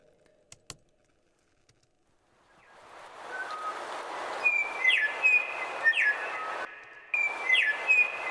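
A bird sound sample in a music track, with short bright chirps and whistles repeating over a rising hiss that swells after a few quiet clicks, briefly dropping out before returning.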